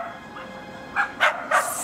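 Several dogs in an animal shelter give short, sharp barks and yips in quick succession over a steady background hum, moderately close and fairly loud.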